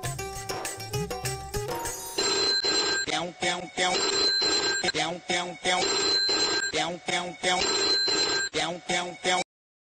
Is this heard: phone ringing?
yes